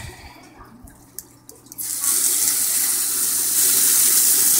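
Water from an aquaponic grow-bed siphon drains into a bucket, starting with a faint trickle that swells after about two seconds into a loud, steady rushing pour close by.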